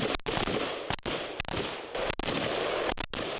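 Rapid gunfire from military close-quarters combat shooting training, sharp loud reports in an irregular series of bursts over constant dense background noise, with no voices.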